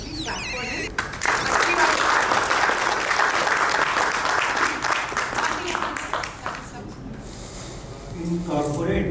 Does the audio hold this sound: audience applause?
yes